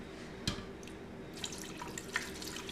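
Water pours gently into an Instant Pot holding potatoes, making a quiet trickle with a few small splashes and drips in a kitchen.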